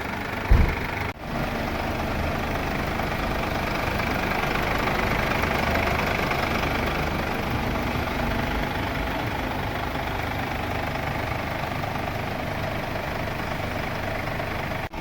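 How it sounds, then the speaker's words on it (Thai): A Mercedes-Benz W212 with the OM651 diesel engine and oil leaking into its cooling system is started for coolant bleeding. A brief start is followed by a steady, loud, low diesel idle drone that continues unchanged and close throughout. "ตอนนี้ถึงขั้นตอนการไล่น้ำนะ เนี่ย สตาร์ทเครื่องไล่"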